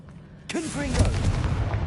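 Confringo blasting spell in Hogwarts Legacy, a sudden loud fiery explosion bursting in and rumbling on with crackling debris, right after a voice shouts the spell's name.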